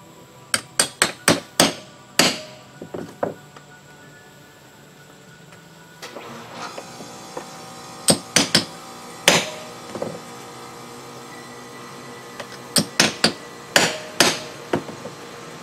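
Hammer strikes on a punch marking drill points on a golf cart seat base, sharp metallic taps in quick clusters of several blows, pausing between groups, close and loud in a small workshop.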